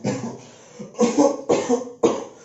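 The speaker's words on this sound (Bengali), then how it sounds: "খুব কাশি হচ্ছে" A person coughs repeatedly in winter, four harsh bursts in quick succession, close and fairly loud with no talking.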